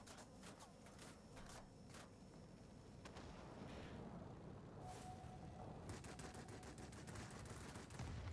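Gunfire in a Wargaming air combat game with bombers under fire from big anti-aircraft guns: continuous bursts of automatic fire over a steady engine drone, fairly faint and even throughout.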